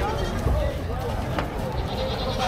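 Goats bleating at a cattle trading livestock market, a couple of short wavering calls rising over the crowd murmur and background noise, with people talking nearby.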